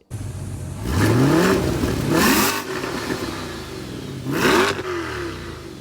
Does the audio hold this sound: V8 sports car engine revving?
yes